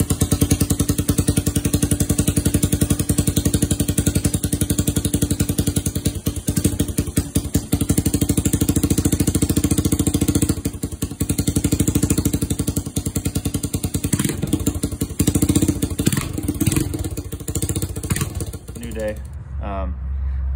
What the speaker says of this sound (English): I threw the battery back in the scooter, started it up.